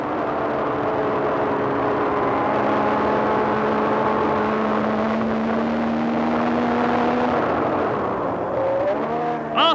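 A Formula 1 car's engine drones onboard as it accelerates past the pits to around 190 mph toward the Verrerie sweep, a loud sustained high-revving note with steadily rising harmonics and a gear change near the end.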